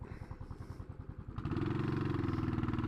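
Royal Enfield Classic 500 motorcycle thumping along at low speed on a city street, its single-cylinder beat steady before the engine note rises and thickens as the rider accelerates, loud and close with no talking.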